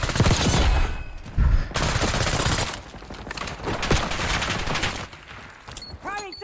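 AS VAL rifle fire in the Black Ops 6 video game crackles in rapid bursts with short pauses between strings of shots, loud and near, with a voice briefly speaking at the end.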